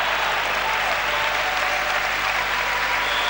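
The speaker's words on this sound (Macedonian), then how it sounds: "Аплаузи за борбената игра на Кожув" A basketball arena crowd applauds Kozuv's hard-fought play during the Kozuv vs. Kumanovo game, a dense, steady wash of clapping that fills the hall throughout.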